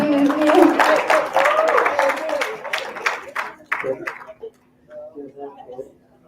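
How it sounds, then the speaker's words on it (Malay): Audience clapping breaks out in a conference room during an industrial knowledge-sharing session, a scattered round of applause heard under a man's ongoing speech that then fades to a few stray claps. "Tepuk tangan dah sikit."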